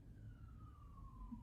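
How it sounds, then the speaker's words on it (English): A faint, distant siren wailing in a steady falling tone over quiet room hum. "the sirens are a little distracting for a second"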